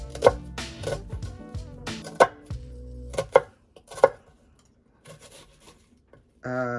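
A knife chops onions on a board in a series of irregular, close, sharp taps and thuds with short pauses between bursts, followed by a brief rattling sound at the end.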